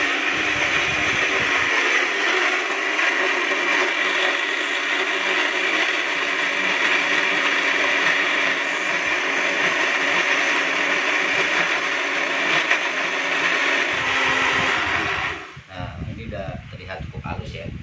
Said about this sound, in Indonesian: Blender dengan air secukupnya.